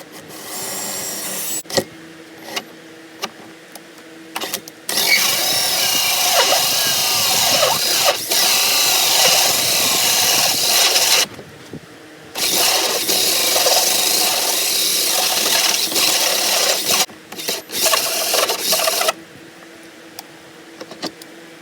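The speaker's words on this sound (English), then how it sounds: "So 6-inch hole saw, and it's heavy, it's big, and hopefully I don't break my wrist." A heavy cordless drill with a 6-inch hole saw bores into wood for a cornhole board, giving loud, close, sustained grinding and whirring in three long bursts with short pauses between them.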